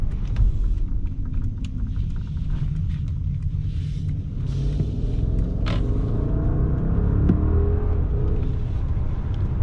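The V8 engine of a 2022 Mercedes-Maybach S580 hums and rumbles steadily from inside the car while driving, with a low continuous drone and faint road noise, no voices.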